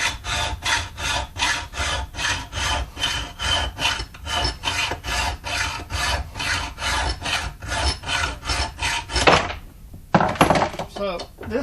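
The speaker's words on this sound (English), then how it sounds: "just a hardware store bolt. I just whacked off with the hacksaw" A hardware store steel bolt being cut with a hacksaw, a steady run of rapid, loud rasping back-and-forth strokes up close that stops near the end, followed by a few clunks.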